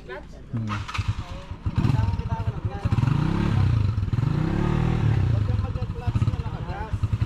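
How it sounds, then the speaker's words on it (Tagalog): A motorized tricycle passes on a farm road, its small engine clattering and revving louder as it nears and then fading, with people talking over it. "Oh, may motor. Ay, tricycle pala."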